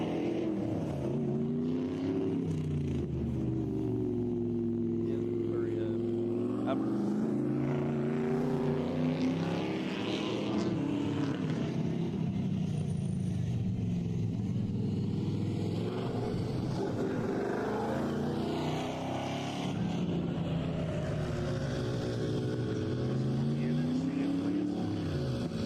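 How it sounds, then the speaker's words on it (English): Track blowers drying a mountain race course at a King of the Mountain event give a steady, droning engine hum with slowly shifting pitch, continuous throughout, while a voice talks over it. "So we've got the blowers out now, so we're bound to be getting close, Ramey."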